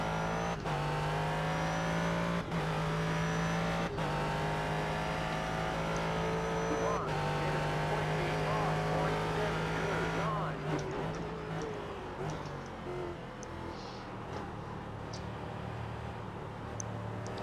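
GT race cars battling for position in the sim racing game iRacing, engines droning and revving with rising and falling pitch through gear changes, close and steady, with a voice talking over them.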